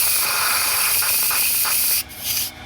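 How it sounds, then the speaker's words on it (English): Pressure-release steam hisses out of a pressure cooker holding cooked roast meat, a loud, close, continuous spray that suddenly cuts out near the end, then gives one short burst before stopping. "So we will do a pressure release on the meat."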